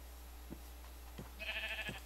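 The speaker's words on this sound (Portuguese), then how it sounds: "Olha, 3 ovelhas." Three sheep in a Minecraft-style block game bleat in short, faint, evenly spaced calls, followed by a brief wavering tone, all over a steady low hum.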